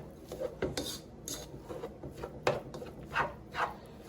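Hands mix seasoning into five pounds of ground egg roll meat in a bowl, giving soft irregular squishing and rubbing sounds with occasional scrapes and knocks against the bowl, close but fairly quiet, with no speech.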